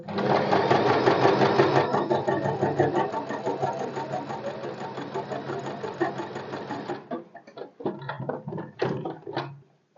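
A sewing machine stitching a blouse back pattern runs in a loud, continuous mechanical whir for several seconds, then stops, leaving a few scattered clicks and handling sounds.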